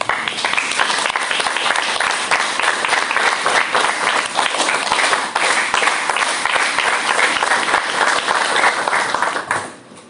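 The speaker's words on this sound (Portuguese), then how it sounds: "A questão das palmas, que começa atrapalhada e termina junto" Applause at the close of a plenary meeting, starting ragged and settling into steady, dense clapping from a group in a hall, continuing for about ten seconds before cutting off abruptly.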